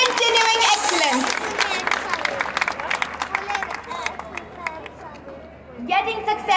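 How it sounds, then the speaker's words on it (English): Applause and crowd chatter for award winners at a school annual day in a hall, loud clapping with voices mixed in, fading near the end before another burst of noise. "Please give them a huge round of applause"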